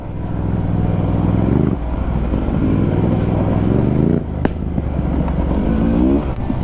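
A Beta 300RR two-stroke off-road motorcycle rides a trail, its engine droning loud and continuous with rising and falling revs over rough terrain.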